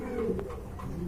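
Quality pigeons of a jed spring breed, kept for sale, coo in a soft, rolling, low warble that fills the whole moment, near and steady, with no one talking over it.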